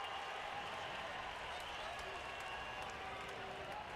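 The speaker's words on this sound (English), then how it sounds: "you can hear the swell of the crowd" Baseball stadium crowd noise swelling as a batter steps in, a broad steady roar of spectators with scattered claps under a commentator's voice.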